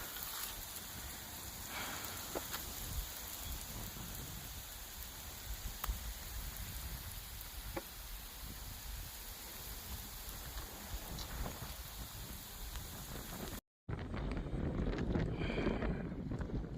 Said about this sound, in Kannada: ಭಯಂಕರ ಮಳೆ